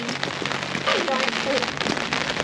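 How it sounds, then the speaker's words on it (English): Heavy rain pours down hard in a steady, dense hiss on a road trip through South Australia's outback towns, loud and close throughout with no pauses. "Hammering rain."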